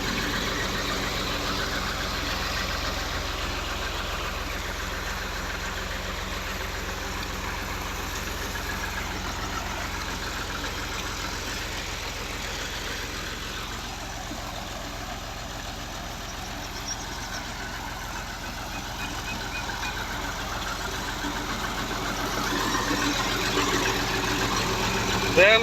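A Fiat 480 tractor engine idles steadily with no load while driving a water pump, a constant low rumble heard from nearby, with faint voices in the background.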